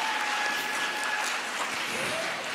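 Warm, sustained applause from a large audience at a religious gathering with a speaker addressing the crowd, a dense steady clatter of clapping with a faint voice underneath.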